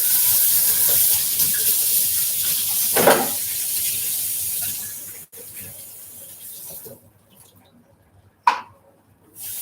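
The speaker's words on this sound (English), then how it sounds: "I'm gonna wash the blender." Tap water runs and splashes over a blender being rinsed in a kitchen sink, a steady hiss for several seconds that then breaks into short, quieter spurts and a final gush.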